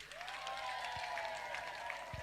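A live studio audience at a Meru TV broadcast claps in a brief, steady patter of applause, moderately distant and faint, with a sustained tone running underneath.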